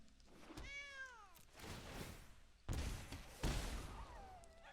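Cat tokens in Magic: The Gathering Arena give a clear rising and falling meow, then heavier thuds and impacts that sound like game effects, with a fainter second meow near the end.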